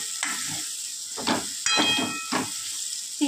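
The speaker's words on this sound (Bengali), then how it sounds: "কষানোর সময় একটুখানি হিং আমি দিয়ে দিলাম।" Spice masala with a pinch of asafoetida frying for chana dal, giving a brief close sizzle broken by several scraping stirs and bursts of hiss, with no one talking.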